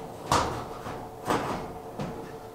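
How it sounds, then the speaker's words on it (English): A clothes dryer's door assembly is fitted back onto its sheet-metal frame, giving three dull thuds at about one-second intervals against a steady hum. "To reinstall the door assembly, I'm going to bring it back in place"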